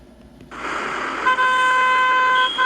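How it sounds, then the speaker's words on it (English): Car horns honk in traffic at a hesitant driver, a sudden rush of street noise followed by sustained, overlapping horn blasts that hold steady nearby and cut briefly near the end, with no speech. "they're honking at her"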